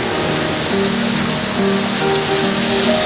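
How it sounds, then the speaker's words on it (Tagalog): Heavy rain pours steadily onto a surface, a dense unbroken hiss with faint low tones running underneath. "ang lakas ang ulan"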